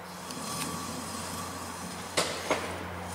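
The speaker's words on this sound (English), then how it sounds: "Sounds like something's rubbing under there instead of the bearing." A Hustler mower deck spindle being turned by hand, giving a faint continuous scraping rub with two brief sharper clicks near the end, quiet and close with no speech.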